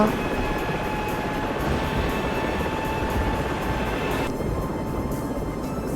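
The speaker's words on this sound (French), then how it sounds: "Profitons un peu de l'hélicoptère." A helicopter in the SAR4 flight game hums as a steady, droning rotor and engine wash, loud and constant throughout, with a slight drop in the upper hiss near the end.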